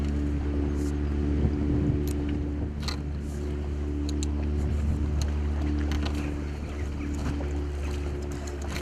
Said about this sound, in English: There's a guy just going out in his boat.